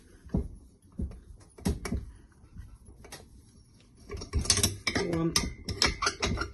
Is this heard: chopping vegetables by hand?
no